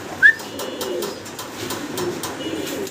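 Fancy pigeons at a market stall give soft, low cooing under a busy background murmur, with one brief, sharper bird call near the start.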